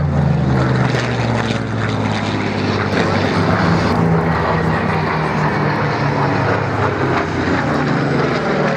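A Messerschmitt Bf 109 propeller fighter flies at an airshow, its engine roaring loud and close in a sustained, slightly wavering drone.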